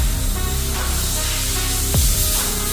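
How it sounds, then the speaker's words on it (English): A disinfectant spray bottle hisses steadily for a few seconds while spraying a car seat, a close, continuous misting sound with a small clunk near the end. "I'm gonna use this disinfectant spray to spray on it first"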